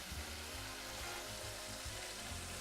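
Steady close sizzling of food frying in a pan, a dense crackling hiss throughout with faint low clicks.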